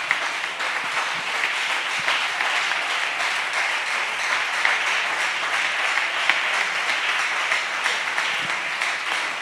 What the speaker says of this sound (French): Tiens-toi debout et acclamons le Seigneur au nom de Jésus